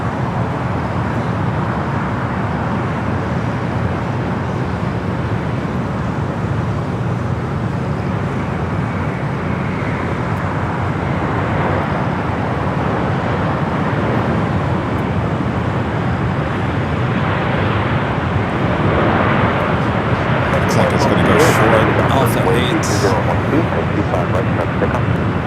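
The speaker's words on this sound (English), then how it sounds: "777 freighter up next for arrival here on the south." A Boeing 777 freighter arriving at Los Angeles LAX from Taipei makes a broad, steady jet roar that swells slightly toward the end, with a commentator speaking over it throughout.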